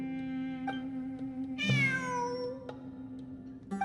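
Cat in the video game Genshin Impact, one clear drawn-out meow that falls in pitch, heard over a soft background hum with faint clicks around it.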